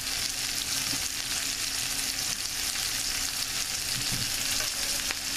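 Onions and cabbage cook down in a pan, giving an even, continuous sizzle at moderate level with a few soft clinks, no voices over it.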